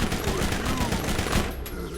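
SMG fire in the video game Borderlands, a rapid, dense burst of shots that runs almost the full two seconds before tapering off, loud and close.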